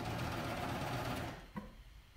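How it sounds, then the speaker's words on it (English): A sewing machine runs steadily, hemming the pocket tops of a women's cardigan, its fast mechanical whirr stopping abruptly near the end and leaving quiet room tone. "I'm going to hem the tops of the pockets"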